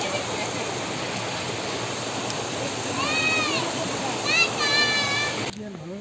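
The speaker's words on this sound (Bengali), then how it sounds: "এটা পাহাড় থেকে কোনোখান থেকে আসছে জলটা। পাহাড়ের উপর থেকে আসছে" Water rushes steadily down from the hills near a waterfall on a rocky trail in Purulia, forming a constant close hiss while voices briefly chatter midway.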